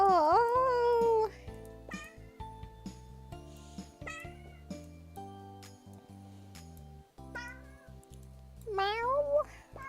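Cartoonish cat meows from a Christmas cat video game, several high, sliding calls at the start and end over a bouncy game music loop with soft clinking accents.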